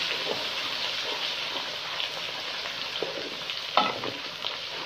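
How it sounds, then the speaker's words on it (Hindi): Crushed chilli and other ingredients fry in a pan for daal gosht, giving a continuous crackling sizzle with light stirring scrapes and a few sharper clicks of the spoon. "इन दोनों चीज़ों को भून लेंगे अच्छी तरह से।"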